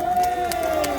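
Crowd at an outdoor election campaign rally at Jeungsimsa temple on Mudeungsan cheers and claps, a brief loud burst of mixed voices and scattered claps with a sustained tone running underneath.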